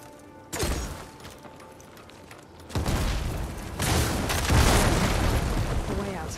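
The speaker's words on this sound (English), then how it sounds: "I should be able to blow this up to clear the debris" An explosion in Horizon Forbidden West blows apart debris blocking a tunnel. A sudden heavy boom is followed by sustained rumbling and crumbling roar that swells again, loud and close.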